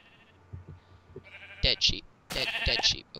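Minecraft sheep bleating, a few wavering bleats that grow louder toward the end, with soft taps between them and no talk.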